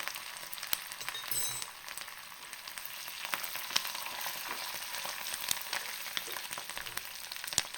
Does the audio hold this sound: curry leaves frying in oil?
yes